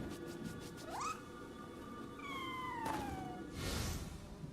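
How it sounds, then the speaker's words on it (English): A Scampus, a corpulent cat-shaped yokai in the video game Nioh 3, gives a couple of rising and falling meows, each a clear drawn-out tone over a low background rumble, with a short burst of noise near the end. "A Scampus is a yokai in the form of a particularly corpulent cat."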